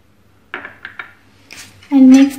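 Dry spices (coriander powder, turmeric, garam masala and salt) stirred in a pan for Kashmiri dum aloo, a few light scraping clinks of a spoon against metal, followed by a voice.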